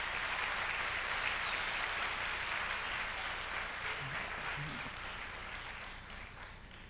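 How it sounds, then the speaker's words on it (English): An audience gives a big round of applause for performers at a speaking event, a dense sustained clapping that fills the whole stretch and slowly tapers off toward the end. "I think we should give a big round of applause for the two previous performers."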